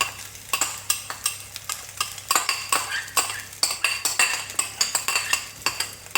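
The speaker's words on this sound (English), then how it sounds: "And just move it round, mix it up." Egg fried rice stirred in a pan, a utensil scraping and knocking against the metal in a steady run of clinks and scrapes over a low sizzle, close and clear with no talking.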